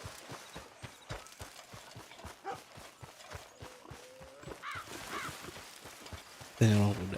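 A stolen horse in a video game clip-clops along at an even walking rhythm, with hooves steady throughout, faint murmurs, and a louder burst of noise near the end.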